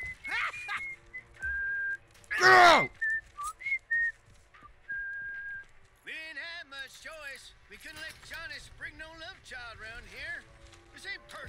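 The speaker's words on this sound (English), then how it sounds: "All you're doing is whistling in my ear." Loud, shrill whistling over game voice chat during a Texas Chainsaw Massacre match, with bursts of rapid warbling tones in the middle and latter half, mixed with shouted talk.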